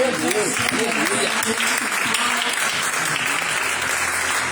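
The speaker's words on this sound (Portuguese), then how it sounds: "Aplauda, Senhor." Dense, steady applause from a church congregation at a morning worship service, continuous throughout, with voices and faint music running underneath.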